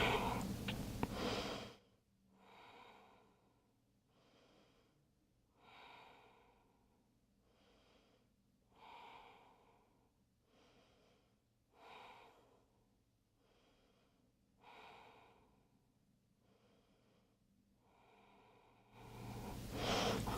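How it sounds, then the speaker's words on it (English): Deep, slow cleansing breaths taken in yoga child's pose: about five soft, evenly spaced exhales roughly three seconds apart in a quiet room, with a voice briefly at the start and end. "Take a few nice restorative, cleansing breaths here."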